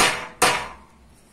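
Two sharp, close metallic strikes from hammering a thin, fine-pointed nail into a small metal cone to punch holes, the second strike ringing briefly before fading.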